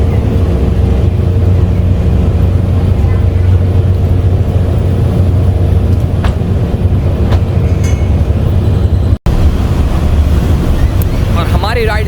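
On the Galveston ferry leaving Bolivar Peninsula, a loud, steady low engine rumble mixes with wind buffeting the microphone and water noise throughout, with one brief dropout near the end.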